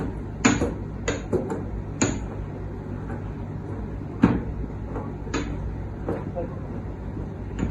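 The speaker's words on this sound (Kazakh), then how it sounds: "Табақшаға салғаннан кейін оны үгітеміз" Shelled walnuts being crushed in a bowl produce sharp, irregular knocks and clacks, close and fairly loud, spaced a second or so apart over a low background hum.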